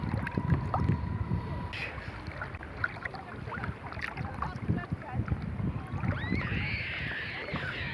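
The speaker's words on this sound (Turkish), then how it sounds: "Tekne şu anda ağır yol ileri gidiyor." Small motor whine and water lapping as a model boat moves along, with gusty wind noise on the microphone and occasional voices in the background.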